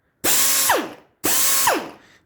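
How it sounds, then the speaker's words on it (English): An old Stelco air die grinder spun up twice, each short high-pitched whine starting abruptly, rising, then winding down, loud and close with no talk. "it used to be an old Stelco die grinder"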